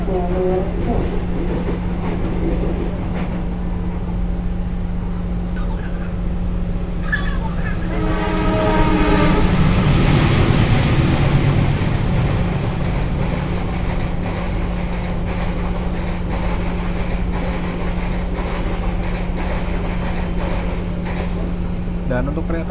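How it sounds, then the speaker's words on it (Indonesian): A steady low hum holds throughout as the Manahan passenger train passes through an Indonesian station on track 3, swelling into a louder rushing roar midway with a horn blast, then fading back. "di jalur 3 nanti akan segera melintas kereta api Manahan nih teman-teman"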